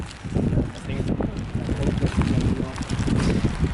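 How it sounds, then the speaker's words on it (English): Gusty wind buffets the microphone on a pier in rainy weather, a loud, continuous low roar with irregular surges throughout. "Windy, rainy, and on a pier."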